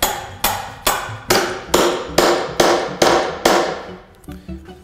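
Hammer tapping 3/8 inch carriage bolts into a wooden cornhole board leg, with nine sharp ringing strikes at a steady rhythm, loud and close, each fading before the next, then a few lighter taps.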